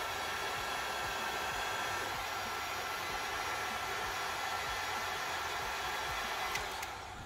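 A heat gun blowing hot air onto the thermistor of a lithium battery pack runs as a continuous loud airy whoosh, then cuts off near the end as it shuts down.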